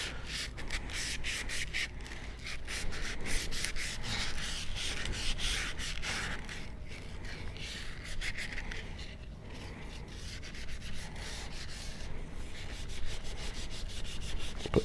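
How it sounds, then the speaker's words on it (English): Steady rubbing of 80 grit sandpaper scuffing the middle section of a factory air rifle barrel liner, a continuous close, gritty rasp of back-and-forth strokes with no talking. "So I'm just going to scuff up this middle section here."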